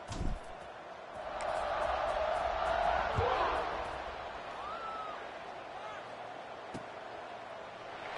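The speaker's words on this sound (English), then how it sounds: "this crowd is feeling themselves after that last drive" Stadium crowd in a college football video game, a broad roar that swells over a couple of seconds and then settles into a steady background murmur, with a few sharp thuds.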